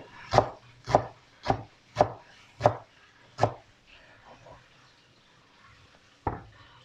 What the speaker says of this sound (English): We chop the onions very finely